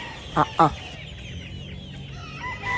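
Gamecock rooster at a fighting-cock farm gives two short, loud clucks near the start, followed by quieter background bird calls and a faint crow-like call near the end.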